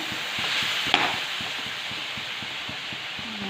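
Fish heads are stirred in a cooking pot for Assamese khar, with a steady rhythm of soft scraping taps over a gentle sizzle and one sharper clank early on.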